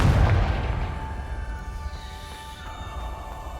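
A Confringo spell blast in the video game Hogwarts Legacy lands as a loud, deep boom at the start. Its rumbling echo then fades slowly over the next few seconds with no voices.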